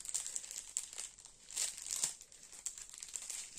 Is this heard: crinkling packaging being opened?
yes